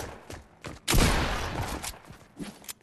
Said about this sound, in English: I'm shooting you so much!